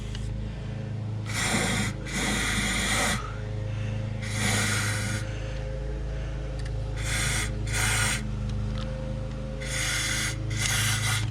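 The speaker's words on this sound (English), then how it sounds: "I'm just gonna spray right into the spark plug, the area that you screw the spark plug in" Several short bursts of aerosol spray hiss close by into the spark plug hole of a MerCruiser 3.0L Alpha One engine during winterizing, each lasting about a second, separated by pauses over a low steady hum.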